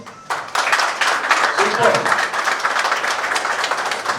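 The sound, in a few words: audience clapping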